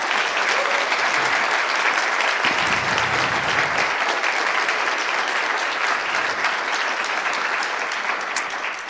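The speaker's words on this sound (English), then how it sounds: "So another round of applause for that." Audience applause after a closing-remarks thank-you at a conference, steady and sustained clapping from a sizeable crowd throughout, loud and dense with no talk over it.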